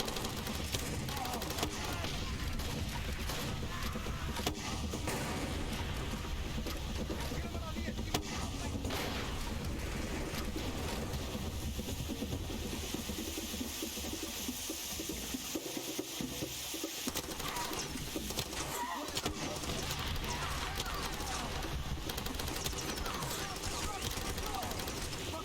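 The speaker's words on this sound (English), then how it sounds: "And there's more shooting at me from where? I heard more gunshot." Gunfire from an enemy outpost in Far Cry 2, a dense, continuous barrage of shots and bursts mixed with game noise, loud and sustained across the whole stretch.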